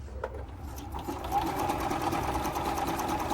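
A Juki F-600 sewing machine, repaired after a broken gear and a needle bar set too high, stitches in reverse with a steady fast mechanical whir and needle chatter. The sound is continuous and close, with no voices.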